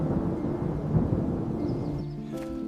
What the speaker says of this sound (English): the storm's coming